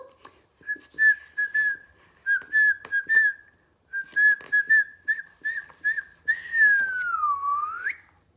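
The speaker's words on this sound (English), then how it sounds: "whistling a happy tune" A person whistles a bright, bouncy tune alone, with short repeated notes, a brief pause, then a long sliding note at the end.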